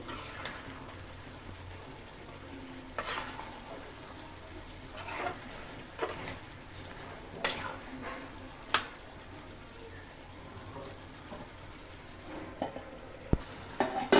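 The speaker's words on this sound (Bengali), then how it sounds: "এখন এই যে দেখুন, আমাদের মুরগির চামড়া ভাজা হয়ে গেছে।" Chicken skin fries in a pan with no added water, giving a soft continuous sizzle, and occasional sharp clinks and scrapes from stirring stand out at irregular intervals.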